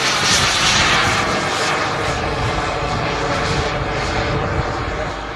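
An F-16 fighter jet in flight at an airshow, its landing gear left down. It gives a loud, steady roaring jet rush with slight surges in intensity across the few seconds, and no talk.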